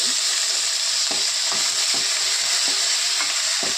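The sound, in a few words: curry leaves frying on low flame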